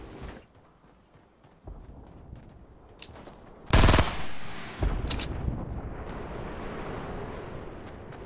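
Gunfire in the Fortnite battle royale video game: a few sharp, loud blasts with short decaying tails stand out over a quieter bed of game noise, one big shot near the middle and another a second later.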